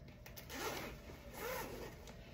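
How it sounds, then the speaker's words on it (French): A jacket's zipper being pulled closed in two smooth rasping strokes, close and clear, with no talking. "c'est une veste qui se ferme, évidemment, avec une fermeture éclair."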